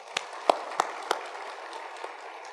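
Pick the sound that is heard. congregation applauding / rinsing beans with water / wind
congregation applauding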